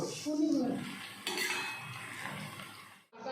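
Lightly salted fried onions for prawn pulao are stirred in a pan with a spoon, giving close scraping and clinking over a soft sizzle before the sound cuts off.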